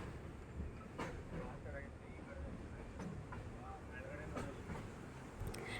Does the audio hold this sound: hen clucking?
no